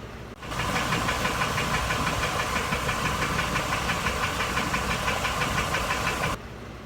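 A rebuilt Ford Triton V10 engine runs steadily in an RV coach, a continuous even throb with a fine rhythmic ticking on top, moderately loud and close, starting and stopping abruptly with no talk.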